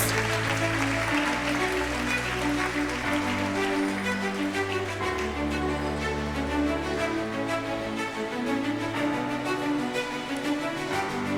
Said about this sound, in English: with resounding round of applause, let's congratulate our newly elected ministers